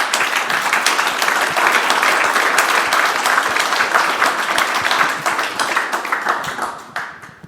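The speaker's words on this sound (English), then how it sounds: "Give a round of applause to our panel." A conference audience gives a panel a round of applause, dense sustained clapping that holds steady and then tapers off toward the end.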